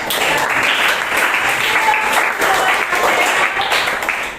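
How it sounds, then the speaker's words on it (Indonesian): A classroom group claps together in sustained, loud applause, steady and continuous for several seconds before tapering off at the end. "Berikan tepuk tangan untuk Amel."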